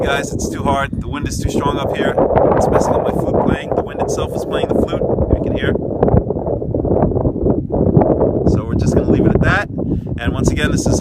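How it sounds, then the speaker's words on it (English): A strong summit wind on Mt. Katahdin roars and gusts across the microphone without a break while someone speaks over it throughout. "The wind is too strong up here."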